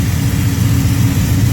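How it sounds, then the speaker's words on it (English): A pump-gas Pontiac 400 stroked to 461 cubic inches, with an Eagle forged crank and rods, warming up. It gives a loud, steady, deep idle rumble close by with no pauses. "warming up Caci's engine here"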